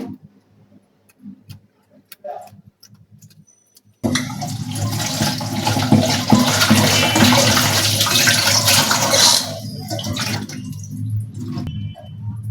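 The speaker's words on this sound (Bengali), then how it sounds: "কই মাছগুলোকে একটু লবণ দিয়ে ধুয়ে নিব" Water runs strongly from a tap over koi fish being washed with salt, a loud steady rush that starts abruptly after a few quiet seconds with faint clicks and handling noises, then eases near the end.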